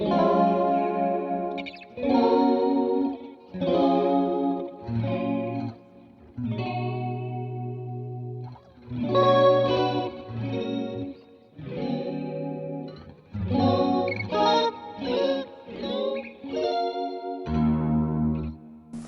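Electric guitar through a Line 6 POD Go playing a sequence of chords and notes with a sweeping, swirling flanger-chorus effect and some distortion, no voice present.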